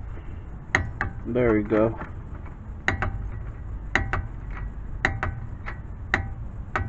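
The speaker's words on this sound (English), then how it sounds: "I'm just torquing this 24 foot-pounds" A ratcheting torque wrench tightens a brake bolt on a 2013-2018 Nissan Sentra front brake job, giving sharp, spaced clicks in a steady series. Someone speaks briefly near the start.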